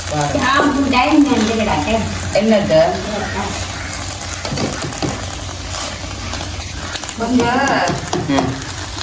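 Squid biryani ingredients being stirred in a pot, scraping and sizzling close up with steady frying hiss, while people talk over it at intervals.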